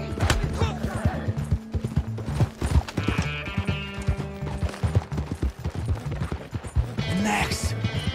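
Horse hooves clip-clopping in the video game Red Dead Online, a repeated rhythmic plodding close by, mixed with game music, a brief whinny and a burst of gunfire near the end.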